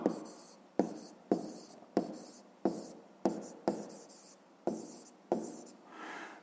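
A pen writes on paper in a run of about nine quick strokes, each starting with a crisp scratch that fades, close and clear with no talking.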